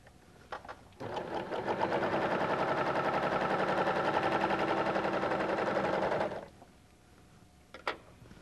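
A Husqvarna Viking Huskylock 1000 serger runs steadily for about five seconds while sewing a three-thread seam, a loud, close, rapid mechanical whir that starts and stops abruptly, with a few light clicks before and after.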